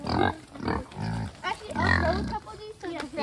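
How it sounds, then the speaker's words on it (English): Pigs grunt and oink in short bursts close by, mixed with a person talking to them over the animal sounds. "Hello, piggies."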